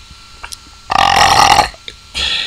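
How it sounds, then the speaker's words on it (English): A single loud, drawn-out burp close to the mic, rough and croaking, lasting under a second, with faint background noise around it during a chess game. "That was an unusual burp."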